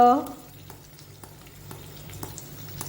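Turmeric and asafoetida sizzle faintly in hot oil for a spice tempering, a soft steady hiss dotted with small crackles after a brief voice at the very start.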